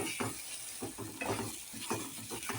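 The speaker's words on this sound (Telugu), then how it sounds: "ఆయిల్ మొత్తం బయటకు వచ్చిన దాకా మనం ఫ్రై చేయాలి" Mushroom masala fries in oil in a pan, giving a faint, steady sizzle broken by soft rhythmic scrapes as it is stirred.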